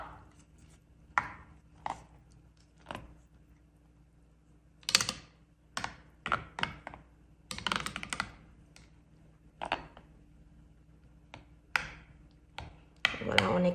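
A spoon mixes and mashes ingredients in yogurt, giving sharp irregular clacks and scrapes against the bowl in scattered bursts, close and fairly loud, with quiet pauses between.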